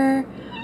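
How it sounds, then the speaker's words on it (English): A pet cat lets out a loud, drawn-out meow close by, a single plaintive cry that breaks off quickly into quieter room sound. "Why do you meow like you're dying?"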